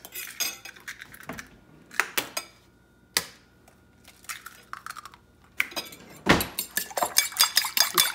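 A fork whisks two eggs in a bowl with rapid metallic clinks and clatters, arriving in uneven bursts. The taps are sharp and close, with brief pauses between runs.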